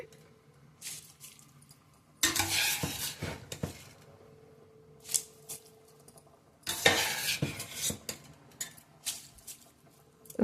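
A chicken and rice mixture is stirred in a pot in two bursts of scraping and clattering spoon strokes, with quieter stretches between them and no talking.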